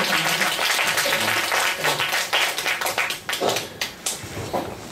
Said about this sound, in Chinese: 所以我们就以最热烈的掌声欢迎陈文平教授来为我们做今天这场